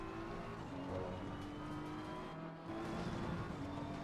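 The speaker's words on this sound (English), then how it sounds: "we floor the car" A race car at full throttle in the racing simulator Assetto Corsa Competizione on the Nordschleife, a loud continuous engine roar climbing steadily in pitch with a brief dip partway through before pulling hard again.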